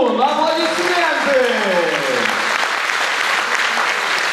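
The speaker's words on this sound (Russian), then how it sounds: "Сергей Узун, аплодисменты!" Audience at a KVN comedy show applauding for Sergey Uzun, clapping rising as a host's voice finishes the introduction, then a full steady round of applause carrying on alone.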